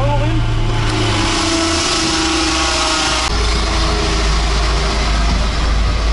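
An Opel Manta engine on a dynamometer, loud and close, rising revs then a sudden shift to a heavy, sustained roar at high throttle, with some talk mixed in.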